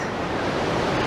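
Sea waves wash onto a beach near Central Pier, a steady broad roar of surf that fills the whole moment without any voices.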